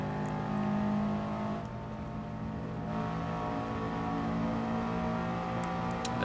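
Subaru Impreza Coupe WRX Type R STI Version VI, an all-wheel-drive rally car, races in Gran Turismo Sport, its engine droning steadily at high revs throughout, with other cars running close alongside.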